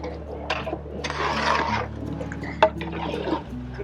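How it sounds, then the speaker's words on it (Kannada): Water pours into a village-style pot of mutton for Karnataka nati mutton dum biryani, making a short splashing rush in the middle with scattered clinks and drips around it, while a voice murmurs in the background. "ನೋಡಿ ಈಗ ಮಟನ್ ಹಾಕೊಂಡ್ಮೇಲೆ ನೀರು ಹಾಕ್ಕೊತಾ ಇದ್ದಾರೆ"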